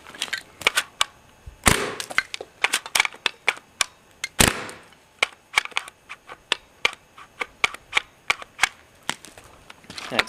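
A paintball marker fitted with a Tacamo mag feed conversion kit fires a rapid, uneven string of sharp, close cracks and pops, with a faulty sear that is not engaging properly and brief gaps between bursts.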